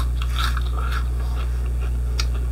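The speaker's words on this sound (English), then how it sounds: "I don't normally chew with my mouth open, but I just wanted to see if you can hear the sound." Crispy fried chicken skin is chewed with an open mouth, giving a few close crunching bites over a steady low indoor hum.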